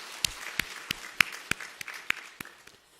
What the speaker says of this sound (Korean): 영광 박수 하나님께 올려드리겠습니다.